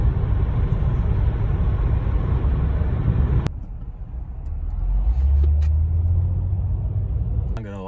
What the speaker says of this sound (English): it is hella cars up here